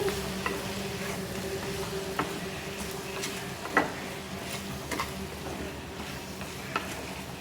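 Tomato and dried prawn curry being stirred in a pan, with a soft, steady sizzle and occasional spoon scrapes and taps at the pan, close and fairly quiet, with no voices.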